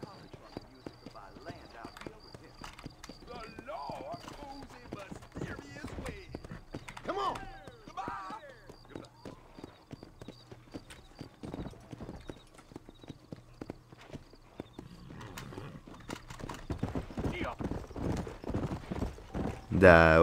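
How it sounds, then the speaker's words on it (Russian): Horse galloping in the video game Red Dead Redemption, a steady rapid clip-clop of hooves running through most of the clip with an occasional whinny, growing louder near the end, while someone talks over it. "Так, садимся на лошадь."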